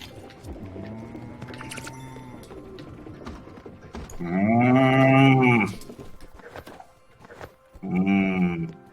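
Cartoonish cow moos from the video game Spiritfarer, a long loud lowing call in the middle and a second shorter one near the end, over quieter game music and ambient sounds.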